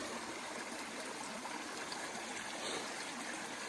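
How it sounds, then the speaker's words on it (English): A small forest stream trickles and burbles in a steady, broad wash of water noise close by, with no voices over it. "There's an awesome little stream over here."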